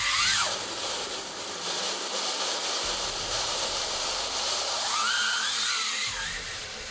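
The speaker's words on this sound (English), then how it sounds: "we're using the vacuum floor machine." A vacuum floor machine works over a wool rug, its loud steady motor whine and suction roar running throughout with rising and falling sweeps as the head moves.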